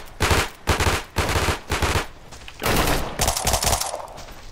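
AK rifle gunfire in the survival shooter Deadside, loud short bursts of automatic shots in a rhythmic on-off pattern, then a longer, slightly denser volley.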